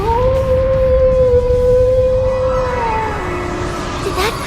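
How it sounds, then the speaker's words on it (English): A wolf howl from The Legend of Heroes: Trails into Reverie video game, a loud, sustained tonal cry held steady before dipping and wavering near the end, with faint game sounds beneath. "Did that howl cancel out the artifact's power?"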